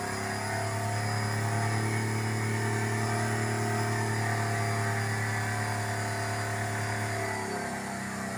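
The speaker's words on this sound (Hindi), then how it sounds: "ऐसे आरपीएम थोड़ा बढ़ा के रखना है" A Hyundai i10 diesel engine with a tapping knock fault runs at raised RPM, a steady mid-pitched drone with a fast ticking texture, holding even and close, then easing slightly near the end, no talk.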